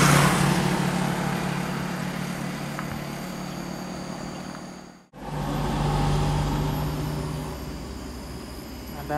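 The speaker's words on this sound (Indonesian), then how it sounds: "Ada medium bus" A large medium-size bus rumbles past on a road in Sumatra, loud and close, briefly dipping to near silence midway before the roar returns.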